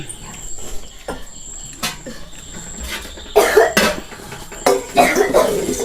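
A sick child coughs several times in short bursts, a cough bad enough to bring on vomiting, the later coughs harsher and louder, with quiet pauses between them.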